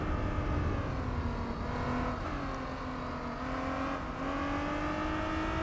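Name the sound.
TVR car engine in Gran Turismo 4 video game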